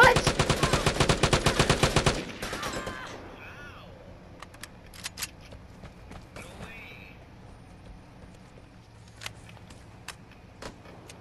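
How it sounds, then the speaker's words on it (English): A rapid, loud volley of about a dozen closely spaced rifle shots from an SKS in the online shooter game Vigor lasts roughly two seconds, then gives way to quiet ambience with a few faint, scattered clicks and distant sounds. "He's trying to shoot him with the SKS, bro."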